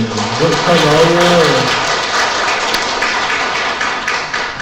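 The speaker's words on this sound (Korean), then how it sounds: "박수 한번 쳐주세요." A congregation in a Catholic church in Incheon applauds. A brief voice comes first, then a dense wash of clapping carries on steadily to the end.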